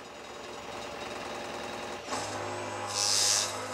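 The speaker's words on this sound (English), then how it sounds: "if I start the program, it does the y-axis, and then the x-axis is juddering." Sculpfun S9 laser engraver with its x-axis juddering, a faint mechanical rattle and hum from the motors, shifting to a steadier buzz partway through with a brief higher whine near the end.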